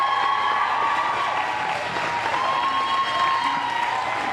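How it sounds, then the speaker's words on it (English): Crowd applause and cheering at a UKC Premier dog show as a Giant Schnauzer enters the ring, a steady, dense roar of clapping and voices sustained throughout without a break. "Listen to that crowd for the Giant Schnauzer coming in."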